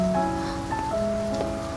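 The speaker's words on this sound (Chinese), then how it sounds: "下这么大雨" Heavy rain falls in a steady, close wash of noise, with sustained tonal notes playing over it throughout.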